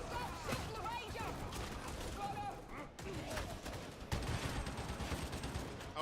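Gunfire aimed at the Ranger in the video game Purge: dense, continuous shooting with overlapping bursts and rattling mechanical noise, mixed with voices and game sounds throughout.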